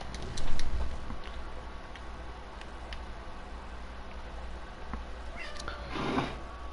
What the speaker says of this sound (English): Dang kitten.